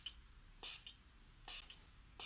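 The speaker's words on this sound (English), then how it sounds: "Oh, it literally just like sprayed." Three short, loud bursts of Catrice Prime and Fine Multi-Talent fixing spray hiss from a nearby nozzle at a steady rhythm, with quiet background noise between them.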